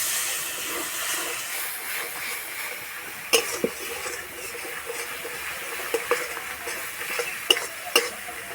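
Water poured into a pan of frying chilli powder, turmeric and a little sugar gives a steady, close hiss of steam and sizzle, broken by a few sharp clicks and taps of stirring, with no voices.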